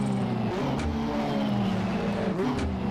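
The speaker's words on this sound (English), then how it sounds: "The first thing I noticed with this car is the sound is quite off compared to what the car really sounds like." Race car engine from a 1985–1992 Australian Touring Car Championship mod in the video game Assetto Corsa, a steady loud drone with revving pitch changes throughout, heard alone without talk.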